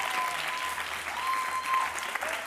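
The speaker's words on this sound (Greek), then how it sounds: "Ένα χειροκρότημα σε αυτή την ομάδα" Studio audience of a Greek television talk show applauding, a dense, continuous patter of many hands at a steady, moderately loud level, with a faint tonal hum running underneath.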